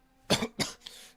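Two sharp, close coughs in quick succession, then a softer breathy trailing sound, during a live Formula 1 Australian Grand Prix watchalong stream.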